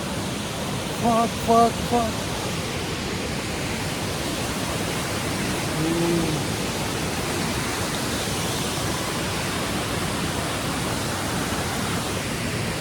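The large Jawar waterfall in summer roars steadily as a broad, constant rush of water falling from above, loud and unbroken throughout, with a few brief tonal calls near the start and another short tone midway.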